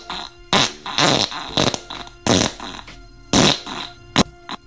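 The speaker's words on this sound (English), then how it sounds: "I have one titled Lots of Farts" A recorded series of farts played back from an iPhone voice memo, about six loud, sputtering bursts of varying length separated by short pauses, with no talking.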